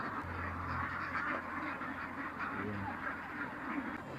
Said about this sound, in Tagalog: yan ang lahi ng itik ko mga partner Philippine Mallard Duck daw ang bread nito